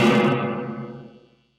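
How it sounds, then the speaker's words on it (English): A Fender Champion 20 guitar amp plays a chord through its reverb-plus-chorus effect, ringing full and shimmering before a smooth reverberant tail fades to silence. "it's a reverb with like a modulation or a chorus, I think."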